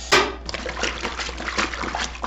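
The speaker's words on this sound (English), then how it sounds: "I'm going to rinse these bras." Padded bras are rinsed by hand in water, giving a short burst of close splashing followed by steady trickling and sloshing, with no talking.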